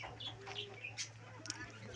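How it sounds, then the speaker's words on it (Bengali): Chickens cluck in short scattered calls at a quiet rural place in Purulia, faint and somewhat distant over a low steady hum, with no one talking. "রয়েছে কতগুলো মুরগি"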